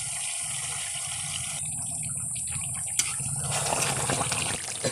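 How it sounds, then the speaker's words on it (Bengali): Hot water poured into browned meat cooking for biryani, a steady close pour that grows fuller and more gurgling toward the end. "এখন আমি মাংসের মধ্যে গরম জল দিয়ে দেব।"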